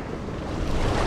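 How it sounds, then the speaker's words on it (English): Waves crash onto the shore of the River Derwent in Tasmania, a steady loud wash of surf blended with wind buffeting the microphone, no voices present. "Waves crashing in."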